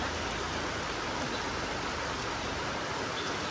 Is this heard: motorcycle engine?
no